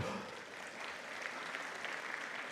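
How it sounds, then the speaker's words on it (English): A crowd at a graduation ceremony claps in a steady, fairly distant round of applause, dense and even throughout, with no voices standing out. "A round of applause, please."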